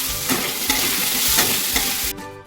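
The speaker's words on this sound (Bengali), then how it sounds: "পেঁয়াজের সাথেই আলুগুলো ভেজে নেবো।" Potatoes and onions frying in a pan while being stirred, a steady close sizzle broken by a few scraping stirs before it cuts off abruptly near the end.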